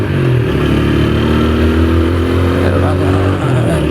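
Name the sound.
TVS Apache RTR 160 4V motorcycle overtaking a car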